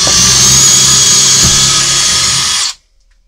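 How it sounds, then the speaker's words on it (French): An impact drill in drill mode at speed 2 bores into material with a loud, steady, close whine for under three seconds, then cuts off to silence. "Toujours vitesse 2 en mode perçage."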